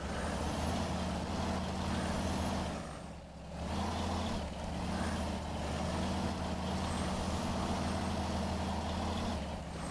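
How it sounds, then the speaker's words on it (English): A truck engine rumbles steadily in the video game SnowRunner, with a loud hiss of air brakes releasing that briefly dips the noise before the engine drone resumes. "There went all of our air for our brakes and stuff."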